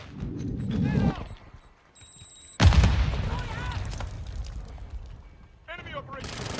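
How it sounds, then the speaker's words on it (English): A grenade explodes in Call of Duty Modern Warfare II, a sudden loud close boom with a rumbling tail that cuts across the surrounding battle noise, while voices shout before and after the blast. "Throw a grenade!"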